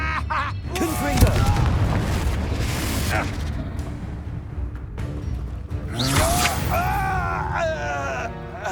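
Confringo explosive spell from the Hogwarts Legacy video game, a loud booming blast with rumbling fire effects, accompanied by layered game sound effects and voices throughout.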